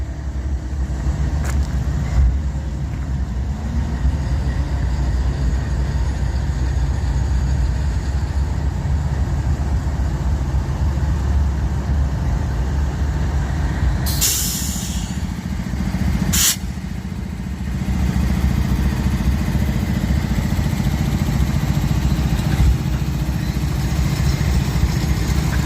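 A freight train hauled by GE CW44AC and EMD locomotives rumbles past, a loud continuous low engine drone and rolling roar throughout, with a couple of sharp bangs near the middle.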